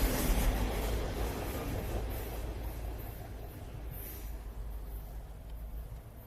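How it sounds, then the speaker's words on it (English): A train passes near an outdoor disc golf course, a broad steady rumble and rattle that slowly fades as it moves away. "Train."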